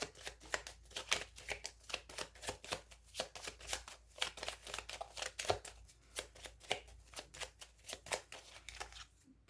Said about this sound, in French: Je vais recouvrir aussi ici la carte